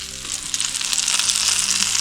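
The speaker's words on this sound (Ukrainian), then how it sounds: "У нас ранок вихідного дня готую смачні сирнички" Syrnyky, Ukrainian cottage cheese pancakes, fry in a pan with a steady, close, loud sizzle and crackle that holds throughout, no talk.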